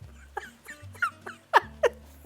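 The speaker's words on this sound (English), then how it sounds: "My dog is snoring." A dog snores in quick, snuffly nasal breaths, close and fairly soft, over a low steady hum.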